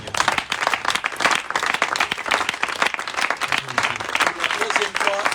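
A church congregation breaks into sustained, dense applause, many hands clapping at once and filling the room, with voices cheering and talking mixed in throughout.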